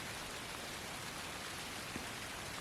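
Steady rain falls outdoors around a hunter's tree stand during deer season, a continuous even hiss of drops on leaves and surfaces with no voices.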